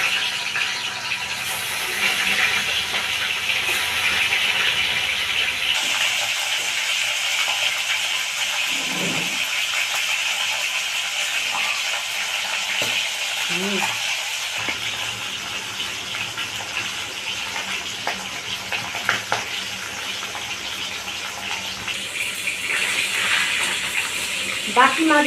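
Pieces of arr fish frying in oil in a Bengali kitchen, a steady hissing sizzle that runs throughout with a few small crackles, someone talking faintly over it at times.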